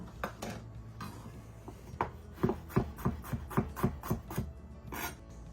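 Three cloves of garlic are minced with a knife on a cutting board, giving a quiet series of evenly spaced, rhythmic chopping taps that grow steadier toward the middle.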